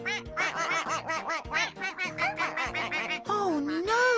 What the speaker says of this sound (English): We're being followed. By the ducklings!